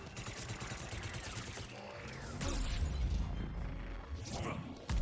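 Light machine gun fire in the Mass Effect video game, a dense, continuous burst of rapid shots with mechanical clatter that swells louder midway and runs almost the whole stretch.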